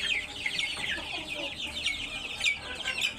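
A flock of large, multicolored hill-breed chickens on a farm clucks and chatters continuously at close range, with busy overlapping calls and no talking.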